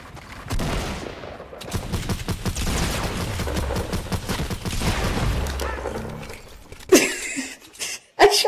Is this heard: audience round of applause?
no